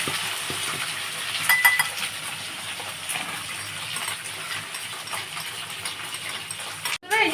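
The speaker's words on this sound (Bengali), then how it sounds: "আচ্ছা আমার ঢ্যাঁড়সগুলো ভাজা হোক" Okra fries in a pan with five-spice, giving a steady, close hiss and sizzle that holds throughout with small crackles and a brief clatter near the end.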